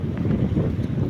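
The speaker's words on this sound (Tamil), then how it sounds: "ஒரு போட் ஒன்று சீறி பாஞ்சிட்டு வருது" A boat speeding across the sea off a North Chennai beach on a very windy day, heard as a low, continuous rumble blended with heavy wind buffeting the microphone, with no talking.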